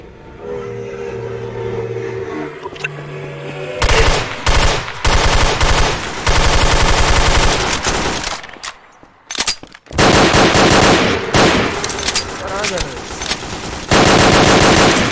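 Machine gun fire in Garry's Mod, loud sustained automatic bursts broken by short pauses, with a low mechanical hum beforehand and no clear talking.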